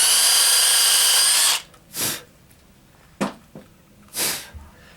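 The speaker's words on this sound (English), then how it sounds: "So just pre-drill it." A power drill pre-drills into a plastic climbing hold on a home wall with a loud, steady whine for about a second and a half, followed by a few short, muffled bursts and knocks.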